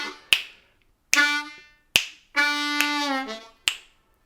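Short bursts and held notes on a G harmonica playing a song's lick, with draw bends sliding down to the low holes, in four separate phrases, the longest one sustained, close and alone.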